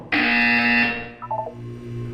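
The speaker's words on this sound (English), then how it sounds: "When you hear the buzzer, look down at the floor." Loud electronic buzzer in the video game Portal 2, a single sustained harsh tone lasting under a second, then a few softer short beeps trailing off over a low hum.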